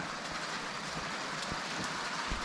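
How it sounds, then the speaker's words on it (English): Steady rain falls outside a cabin, a dense even hiss of drops with no pauses and no voices, holding at a constant moderate level throughout. "A little bit of rain to spoil my fun."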